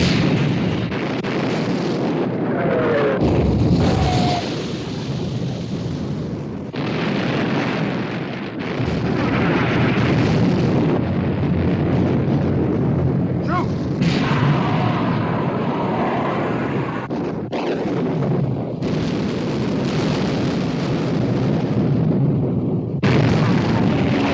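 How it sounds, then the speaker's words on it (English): Naval gunfire in a 1960 film battle scene as the Prince of Wales and Bismarck exchange fire at sea, with heavy booms and rumbling blasts recurring throughout over a loud, continuous din, with voices briefly heard. "Prince of Wales and Bismarck exchanging fire."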